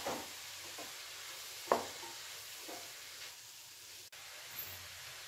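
Chopped tomato and grated potato stirred in a pan for a vegetable roll filling, giving a faint, steady sizzle with an occasional soft scrape of the spoon.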